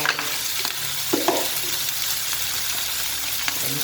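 Thai fermented pork with egg and peppers is stir-fried in a pan, giving a steady close sizzle with scraping and stirring sounds throughout.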